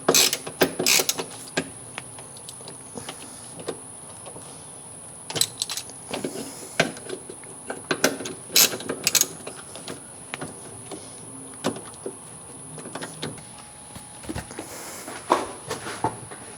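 A ratchet bolts seat base plates into a golf cart: a steady run of quick mechanical clicks and metallic ratcheting taps, close and moderately loud, with irregular bursts and brief pauses, no talking.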